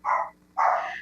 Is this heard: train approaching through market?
no